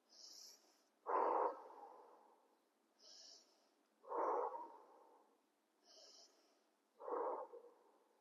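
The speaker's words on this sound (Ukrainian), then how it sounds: "Знову три рази видихаємо, вдих носиком." Breathing exercise during a Kundalini yoga session: three rounds of a sharp nasal inhale followed by a forceful breathy exhale, evenly paced and close to the microphone in a quiet room.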